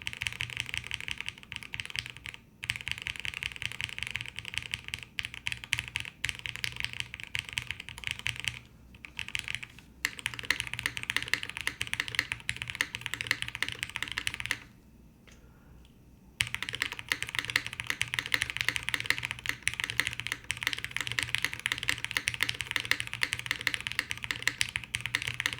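Fast continuous typing on a Bina 103 full-size custom mechanical keyboard with a 1.2 mm PCB and Bikini plates, giving a deep, close clacking that pauses briefly once midway.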